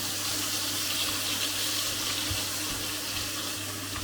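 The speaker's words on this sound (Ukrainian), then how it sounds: "Ось ми сметану довели до кипіння і вже час викладати рибку." Sour cream boils in a pan with carrot and onion fried golden in oil, a steady close bubbling sizzle that stays constant throughout.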